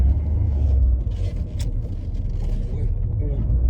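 A 32-year-old French hot hatch cruising on the road, its engine a steady low rumble with road noise filling the cabin throughout.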